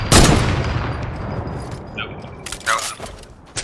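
A burst of gunfire opens a shooter video game match, then sharp cracks and pops follow against game effects, with players talking over the action.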